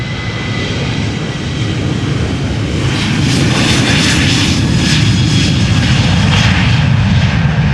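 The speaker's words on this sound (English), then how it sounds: "Yet again, a KLM 737, this one the 900, going to Hamburg, flight 1783." A 19-year-old KLM Boeing 737-900 jet departs Amsterdam Schiphol Airport for Hamburg. Its engines make a loud, continuous roar that swells and stays strong throughout, with no voices.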